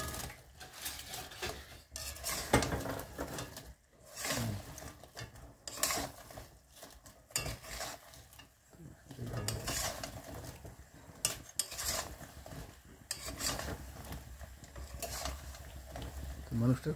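A spoon scrapes and clatters as Kordoi Pitha is stirred into a sticky sugar syrup in a pan, with irregular strokes and a soft sizzle, while someone talks throughout.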